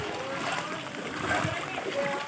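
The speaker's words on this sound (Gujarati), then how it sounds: "અમે ચાલીએ છીએ પાણીમાં ચાલીએ છીએ" Continuous sloshing and splashing of floodwater as someone wades through a flooded housing society after heavy rain, with a voice speaking briefly amid the churning.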